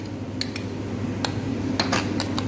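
Metal spoon clinking against a bowl while salt, green chilli, coriander, mint and grated bottle gourd are mixed for raita, a few light scattered clinks and scrapes over a steady low kitchen hum.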